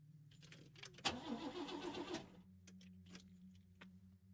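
In a video game, keys jingle before a car engine cranks with a rough grinding whir for about a second and fails to catch, then falls quiet, leaving a low hum and a few clicks.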